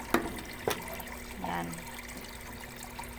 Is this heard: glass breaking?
no